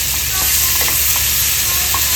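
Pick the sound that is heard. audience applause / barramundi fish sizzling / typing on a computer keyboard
barramundi fish sizzling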